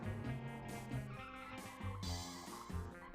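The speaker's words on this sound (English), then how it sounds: "But the car makes cool noises" Car engine and tire noises in Cruis'n USA on the N64: a steady engine drone with squealing, skidding tires over roughly three seconds, with no talking.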